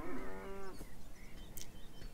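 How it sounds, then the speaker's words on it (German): A cow moos in the video game Beyond Eyes, a single long, loud, drawn-out low call at the start, then quieter ambient game sounds. "Nee, wir hören Kühe."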